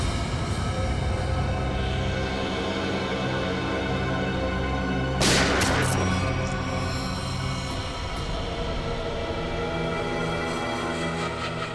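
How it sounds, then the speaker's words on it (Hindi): A single sharp gunshot-like blast erupts midway through a tense Hindi police TV drama scene (CID), standing briefly above a steady, dense background of score and ambience. "चलाओ गोली"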